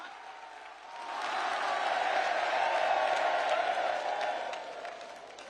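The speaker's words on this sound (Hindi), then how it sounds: "जोरदार ताली बजा करके हम सब पूरा बागेश्वर परिवार स्वागत करें।" A large gathered crowd at a religious event at Bageshwar Dham claps and cheers, swelling in from a quieter start, holding loud for several seconds, then easing off, somewhat distant.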